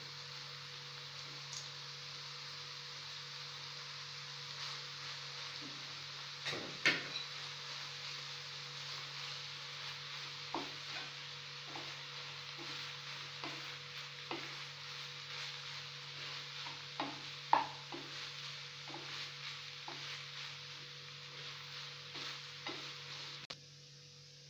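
Ground-meat kefta with rice is stirred in a frying pan: a steady sizzle with a low hum underneath, and intermittent scraping taps of the utensil against the pan, close and moderately loud.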